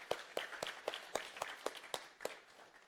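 Sparse hand claps from a small audience, roughly eight distinct claps spaced apart, faint and somewhat distant, as a round of applause follows a set of lightning talks and demos at an online data challenge event.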